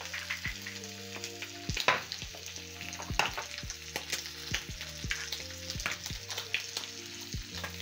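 Bacon frying in a pan, a quiet, even crackling sizzle with scattered pops and a low steady hum beneath, heard close with no speech.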